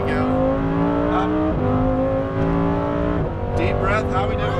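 A Lamborghini Huracan Performante on a race track revs under throttle, its engine note climbing and dropping through downshifts and pickups, loud and close, while a voice talks over it.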